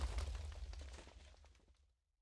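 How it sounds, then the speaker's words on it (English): A Minecraft explosion is set off by a modded pig power: a loud rumbling blast that rolls on and crackles, then fades to silence within about two seconds. "So that's just basically a repeating command of an explosion wanting to repeat there."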